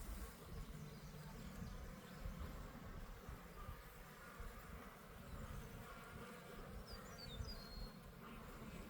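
Honey bees buzz around a hive in a dense, continuous drone that stays steady and fairly close throughout, with a few faint higher chirps partway through.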